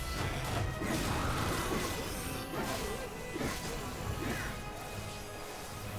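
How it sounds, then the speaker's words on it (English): Club and hammer smashing in the video game MediEvil, a run of loud crashing, thwacking impacts with whooshing swings over busy game sounds. "now we have the club and the hammer. We can actually smash these."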